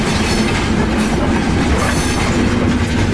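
An overnight passenger train rolls along the tracks near Bariloche in Patagonia, a loud, continuous rumble with a rhythmic wheel clatter, heard from inside the carriage with no talk.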